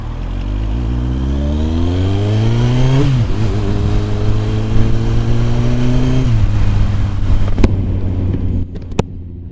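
A modified Kawasaki ZX9R motorcycle accelerating hard through the gears in traffic, engine note climbing in pitch, dropping at a shift, then climbing again, loud and close with wind noise.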